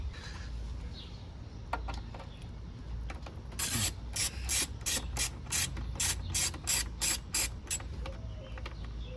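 A hand ratchet clicks in quick, evenly spaced bursts as it removes bolts from the front wheel of a Honda GL1500 Goldwing motorcycle. The clicking is close and distinct over a low background hum.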